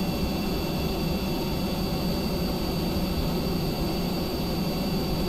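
The jet engine of an F-104 replica in Kerbal Space Program roars steadily in a constant broadband rush with a faint high whine, loud and unbroken throughout, with no voices.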